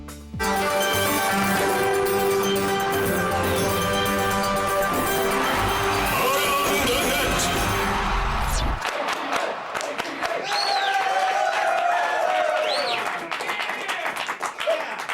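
A television studio audience cheers and shouts together at the end of a chant, a loud dense roar that breaks off abruptly, followed by scattered whoops, whistles and clapping.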